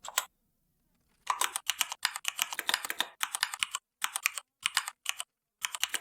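A computer keyboard clatters in quick close bursts of keystrokes, separated by short pauses, as a prompt is typed.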